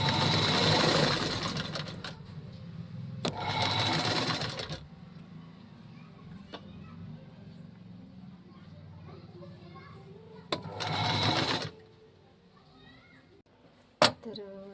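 A sewing machine stitching folded pleats into a blouse sleeve runs in three distinct bursts, the first two long and loud, the last shorter, separated by quieter handling pauses and ending with a sharp click.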